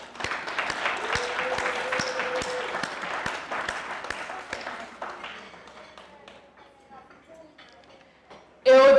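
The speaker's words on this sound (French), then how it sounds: "Nous devons applaudir pour nous-mêmes." Audience applause at a graduation ceremony forms a steady rolling patter with evenly spaced sharper claps, gradually thinning and fading to quiet before a loud burst at the very end.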